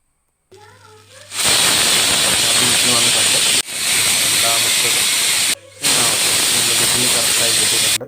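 A pressure cooker steams kozhukatta dumplings in a home kitchen. A brief voice comes first, then loud, close hissing jets of steam in three long bursts with short gaps between them.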